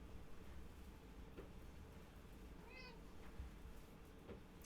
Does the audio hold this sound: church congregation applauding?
no